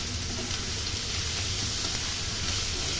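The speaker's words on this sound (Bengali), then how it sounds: "দিয়ে ভালোভাবে নাড়াচাড়া করে ভেজে নিতে হবে।" Shrimp sizzle steadily in hot oil in a pan with okra, a close, even frying hiss that carries on without a break.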